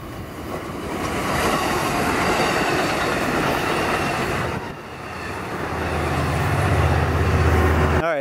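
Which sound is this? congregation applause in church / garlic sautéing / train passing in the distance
train passing in the distance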